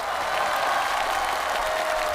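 A studio audience applauds steadily throughout at a televised Cantonese singing contest: dense, even clapping that stays loud and fills the whole stretch without pause.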